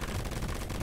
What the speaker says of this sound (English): Let me get my Tommy gun.